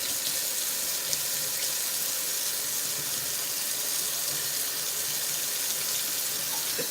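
Hot tap water runs steadily from a faucet into a cooking pot being filled for boiling pasta, a continuous broadband rush heard close and alone for the whole stretch.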